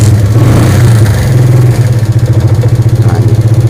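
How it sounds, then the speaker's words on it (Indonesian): Motorcycle with a flat battery being kick-started, the engine catching and running loud and close with a rapid pulsing idle rhythm, no speech. "Kemudian kalau saya hidupkan pasti melalui diengkol."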